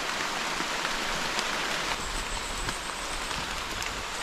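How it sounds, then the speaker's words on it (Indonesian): Heavy rain pours down on Gunung Meliat in a continuous, loud wash of drops that stays steady throughout, with no one talking. "Deras guys hujannya guys. Ini hujan beneran guys"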